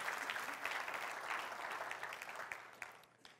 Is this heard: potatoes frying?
no